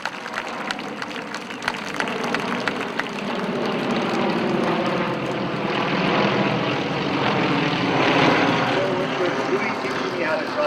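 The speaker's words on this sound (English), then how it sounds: "I'm going to let these planes fly over here" A loud, steady propeller-plane drone passes overhead, swelling slightly, with faint voices underneath.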